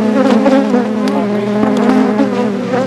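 Honey bees swarm and buzz steadily around newly set up farm hives, a dense, loud, continuous drone with wingbeats rising and falling as insects pass close by, with no talking.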